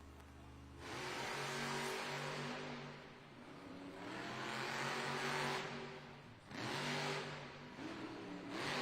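Gravedigger monster truck engine at a Monster Jam arena event, roaring in repeated loud revving bursts that swell and drop several times, heard from a distance across the arena.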